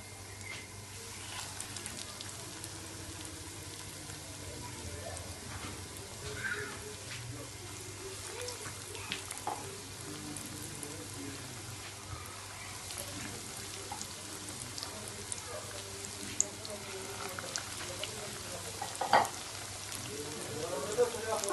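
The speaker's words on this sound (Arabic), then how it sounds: "بعد ما ساليت المعقودة ديالي والزيت هي سخنات، دابا غادي نوضعها." Makouda potato fritters frying in hot oil, a faint, steady sizzle with scattered pops and crackles close by throughout.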